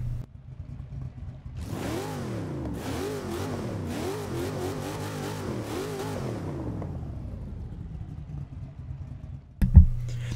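A 1967 Sunbeam Tiger's V8 engine in the video game Forza 6 revs up with a deep, rumbling growl that rises and falls through several climbs, then settles to an idle before a sharp knock near the end.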